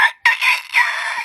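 A person mimics a rooster's crow with the voice, giving a short exclamation and then a long, strained cock-a-doodle-doo that rises and wavers for about a second, loud and close.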